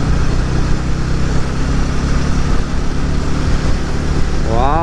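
A TVS Ronin motorcycle riding along the Chalakudy highway, with a steady engine drone mixed with loud wind rush throughout and a voice faintly audible beneath.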